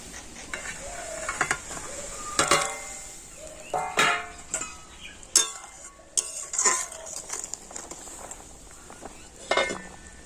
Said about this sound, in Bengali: ঝোলটা ফুটে গিয়েছে আর এখন আমি ভেজে রাখা পটলগুলো দিয়ে দেবো